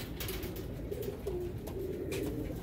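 Sialkoti pigeons coo softly in a run of low, rolling calls, several repeated coos faint against a quiet, steady background.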